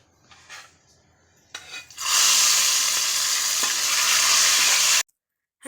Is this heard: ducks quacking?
no